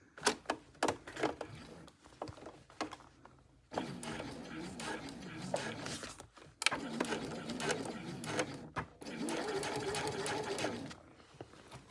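A sewing machine with a walking foot stitches a layered tote bag, its rapid mechanical chatter running in a few bursts with pauses between them, close and moderately loud.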